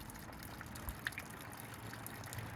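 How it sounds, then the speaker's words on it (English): Water trickles and dribbles from the stern of a 1977 StarCraft Holiday boat as it drip-dries, faint and close, with a few soft isolated drips and splashes over low background. "And it's dribbling water"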